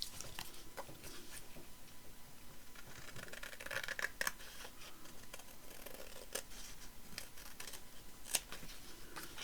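Scissors trim paper up close in a series of short, crisp snips spaced irregularly over a faint steady background hiss.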